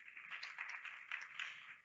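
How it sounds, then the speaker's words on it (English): An audience at a women's equity event applauds an introduced guest, a faint, thin patter of clapping heard from a distance, continuous and unaccompanied by speech. "A warm round of applause for Mati as well."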